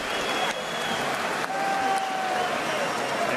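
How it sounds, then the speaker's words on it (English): Sellout boxing arena crowd at a 2005 title fight applauding and cheering in a steady, dense roar, with whistles cutting through the constant broadband wash. "No doubt to be saluted momentarily by this sellout crowd"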